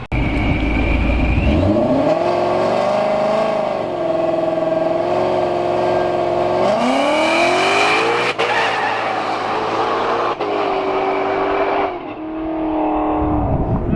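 A turbocharged Pontiac GTO accelerates hard in a street race, its engine roaring loud and close as it climbs through the gears with rising pitch, a whistling jet-like turbo whine over the top, and brief dips at each shift.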